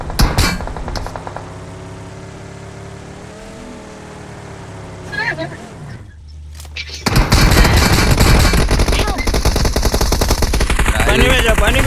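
Machine gun fire in a video game rattles in quick bursts at the start, gives way to a humming vehicle engine, then returns as a loud, dense barrage of gunfire mixed with engine noise.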